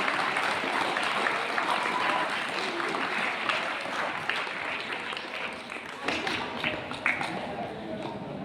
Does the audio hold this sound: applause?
yes